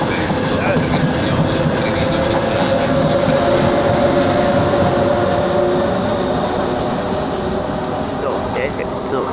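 A fast Italian train rushes past with a steady, loud roar and rail rumble over about nine seconds, with a faint hiss at the high end.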